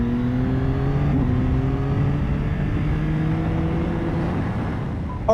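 A Yamaha R9 sport motorcycle lapping the Sydney Motorsport Park South Circuit, its engine holding a steady loud drone with rising and falling harmonic lines as it shifts and accelerates, heard close and alone throughout.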